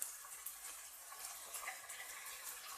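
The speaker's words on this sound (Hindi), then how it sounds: "अब इनको आपने अच्छी तरह फ्राई कर लेना है तकरीबन 5 मिनट के लिए" Chicken fries in a pan with garlic-ginger paste and crushed red chili, a soft steady sizzle with light crackling and occasional stirring ticks, close and quiet with no talking.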